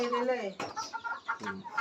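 Tiger-breed and farm chickens cluck close by in a quick run of short, throaty calls, starting with a longer drawn-out cackle and then choppy clucks.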